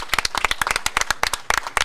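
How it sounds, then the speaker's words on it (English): Audience applause at a live sports talk show in Bobcaygeon, heard as a short burst of many close hand claps in an irregular patter. "Give yourselves a round of applause."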